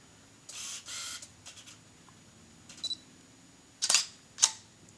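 Several sharp mechanical shutter clicks from a Canon 550D (T2i) fired by a remote, some in quick pairs, close and distinct against a quiet background, with no talking.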